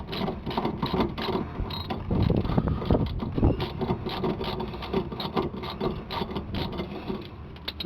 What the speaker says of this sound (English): So just take this bolt completely out.